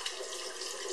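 A bathroom tap runs freely while someone rinses their face, giving a steady, fairly soft rush of water without speech.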